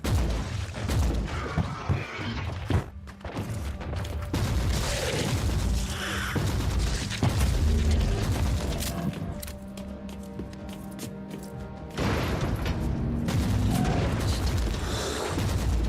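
Full-auto gunfire rattles on through a busy, dense mix of combat effects and booms in the Warhammer 40K: Inquisitor - Martyr action game, fairly loud and sustained, with a short lull near the middle.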